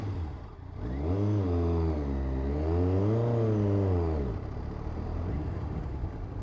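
A motorcycle pulls away in third gear on a Sunday ride, its engine note rising and bogging in a long labored sweep before settling back, loud and close with steady wind rumble underneath.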